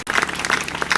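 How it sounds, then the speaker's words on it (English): A brief burst of audience applause at an outdoor bandstand music session, loud and dense for about a second after a short gap at the start. "Let's give Claire a big round of applause"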